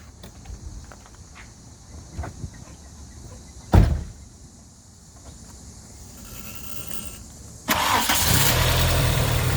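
A Volkswagen Mk2 GTI fitted with motorcycle carburetors is started from outside the car: a couple of clunks and a brief crank, then the engine catches and settles into a loud, steady idle.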